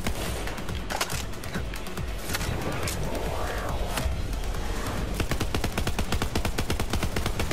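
Rapid bursts of automatic gunfire and scattered single shots from the video game Borderlands 3, loud and dense throughout, with a busy game soundscape underneath.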